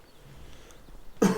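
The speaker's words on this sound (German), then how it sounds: "Sorry für das ganze Huste." A single sharp cough bursts out near the end, close and fairly loud, after a stretch of quiet room tone.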